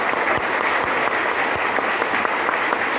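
An audience at a motivational seminar in India claps loudly and continuously, a dense sustained wash of applause with no talk over it.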